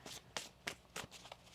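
A deck of tarot cards is shuffled quietly up close, with four or five crisp riffling bursts in quick succession.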